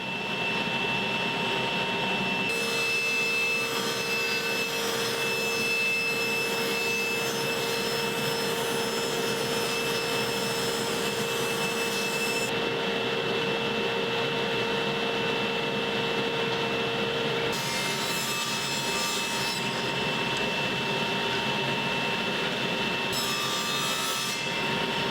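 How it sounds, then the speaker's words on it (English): A power saw rips scrap 2x4 lumber into square rods, a continuous loud whining drone with a rough woody grind as the blade cuts, the pitch shifting between passes over about twenty-five seconds. "I start off by ripping them into 3 1/4 inch square rods"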